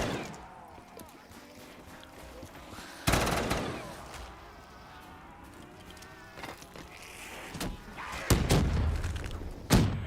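In a Call of Duty Zombies match, a sharp grenade blast hits at once, followed by scattered bursts of gunfire and further thumps and cracks over a busy game background.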